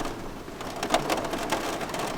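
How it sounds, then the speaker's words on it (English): Torrential rain hammers down in a storm with 60-mile-an-hour winds outside a Sprinter camper van, a steady dense hiss with scattered louder drops, no voices. "we've still got 60-mile-an-hour winds and torrential rain where we are"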